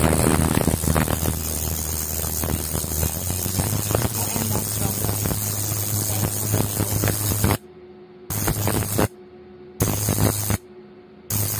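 A 360-degree cryolipolysis fat-freezing machine's motor runs with a steady electrical hum and hiss, then cuts in and out in regular bursts separated by near-silent gaps.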